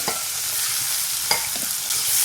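Mustard seeds, cumin, asafoetida, curry leaves, green chilli and ginger sizzle in hot oil, a loud close crackling hiss with a few quick spatula scrapes over about two seconds and no speech.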